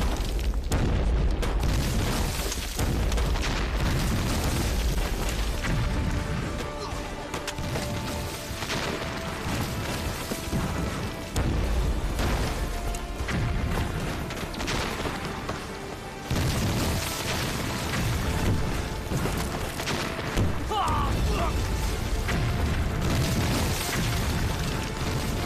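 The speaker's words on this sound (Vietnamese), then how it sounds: "Kích nổ mìn." Mines detonated in a war scene, heavy booming explosions rolling one after another over a continuous, dense roar of blasts and debris, loud and sustained throughout with no voices.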